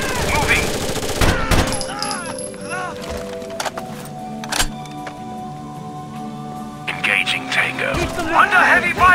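Rapid automatic rifle bursts and single cracks from a tactical shooter set in a casino security area, mixed with radio-style squad callouts and a few thumps.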